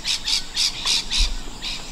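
Australian white ibis give a rapid series of six harsh, raspy squawks in an evening outdoor setting, evenly spaced and fairly close, with no talking.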